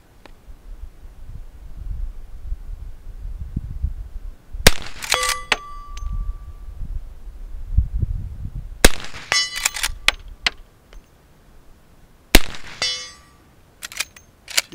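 Sharp, loud rifle shots from a Marlin 1894 carbine in .357 Magnum firing lead bullets, about five separate cracks spaced several seconds apart, each followed by a ringing metallic ping of a steel target, over a faint outdoor breeze.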